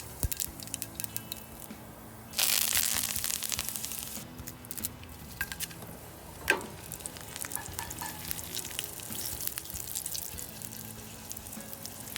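Quiet sizzling of mustard seeds in hot oil that suddenly grows louder and crackles as curry leaves are added, then continues with occasional stirring and scraping.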